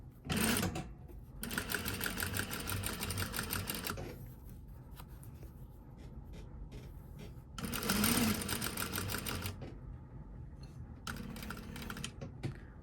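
Sewing machine running a long basting stitch along a half-inch seam while installing an invisible zipper, with several bursts of steady whirring separated by pauses.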